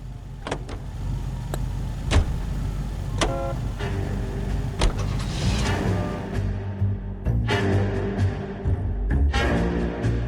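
Car driving in the video game LA Noire, a continuous engine drone with sharp clicks and thumps scattered throughout and a rising rush of road noise midway.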